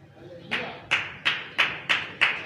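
A handful of slow, evenly spaced hand claps, six in all, ring out sharply in a church hall at a consecration festival service, close and clear against a quiet background.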